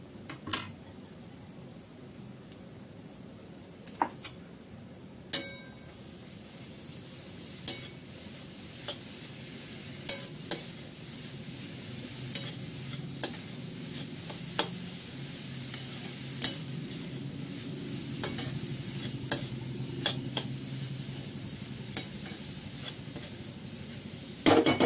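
Dried fish (sukat) sizzles softly in a pan for a mango sukat dish, with a steady low frying hiss broken by repeated sharp clinks of a spoon stirring against the pan, and no voices.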